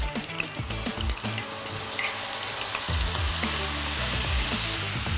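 Ingredients for layered tofu skin sizzle and crackle steadily in hot oil, a close, continuous frying hiss with occasional stirring clinks, no talking.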